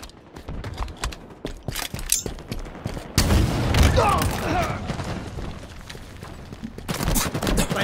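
Rocket blasts and gunfire in a Halo Infinite multiplayer match, sharp bursts and a dense booming stretch mid-clip, with game announcer voice lines over the chaotic battle sounds.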